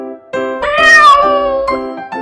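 A cat meows loudly and close by: a short call, then a long drawn-out meow, then brief trailing mews, with no voices.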